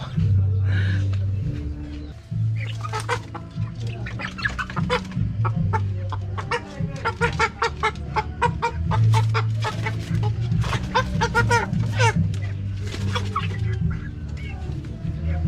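Rhode Island Red chickens cluck repeatedly up close, a busy run of short clucks and squawks over a low steady hum.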